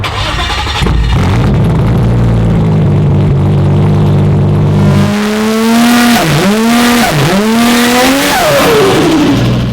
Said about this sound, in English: We're about to get a cold start on this, and this is just the car of the show for me.